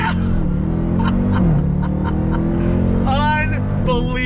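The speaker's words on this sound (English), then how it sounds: "let's do another on throttle acceleration" A 2021 Dodge Durango Hellcat SUV accelerates hard on throttle, a loud steady engine drone heard from inside the cabin with a rising whine, as someone talks over it.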